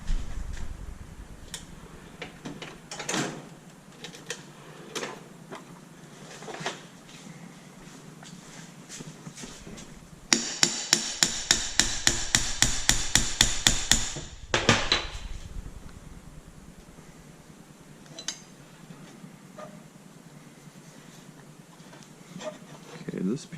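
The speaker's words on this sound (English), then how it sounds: "Hammer, see if we can give it a little tap down." Hammer tapping on the front axle of a vintage National traveling walking sprinkler, heard as a quick run of sharp, evenly spaced metallic taps lasting a few seconds, with scattered knocks and talk around it.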